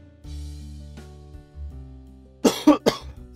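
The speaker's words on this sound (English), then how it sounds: "Excuse me with this cough." A man recovering from a cold coughs two or three times in quick, sharp bursts, close to the microphone, over quiet game music and sound effects.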